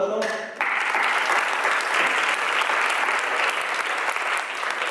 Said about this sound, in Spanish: Así que le recibimos con un aplauso.